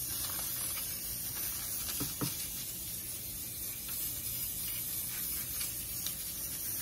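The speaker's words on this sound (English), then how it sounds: "And you spray these liberally" Continuous hissing spray from an aerosol can, a steady airy jet running for several seconds with a couple of faint clicks partway through.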